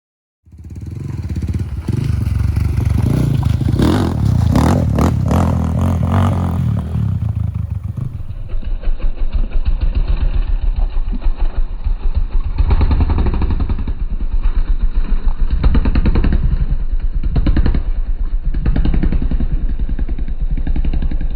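A GPX FSE 250 dirt bike, a 2021.5 model, revving off-road, loud and close, with a burst of throttle and clattering over rocks, then a steady engine drone with repeated surges.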